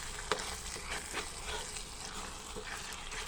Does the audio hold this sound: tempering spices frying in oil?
yes